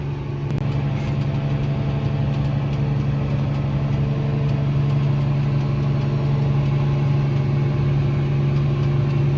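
Fendt tractor engine runs at a steady, loud drone with a deep hum while planting canola, constant and close throughout with no speech.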